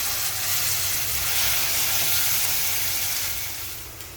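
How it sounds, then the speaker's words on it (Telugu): Gongura chutney goes into hot oil with cumin and curry leaves, raising a loud, close, continuous sizzle that swells then gradually fades toward the end, with no voices. "ఇప్పుడైతే ఈ పచ్చడి వేసేసుకుంటున్నాను."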